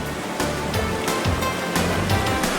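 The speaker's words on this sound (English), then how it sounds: "The Kursunlu waterfall is particularly impressive." Kursunlu waterfall near Antalya, Turkey, with water roaring in a loud, steady broadband rush and a few surging swells, no voices present.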